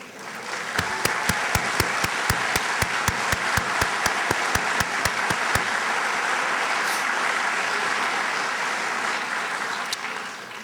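Audience applause at a university convocation: steady crowd clapping throughout, with a sharper, evenly paced series of nearby claps standing out over the first half before fading into the general applause.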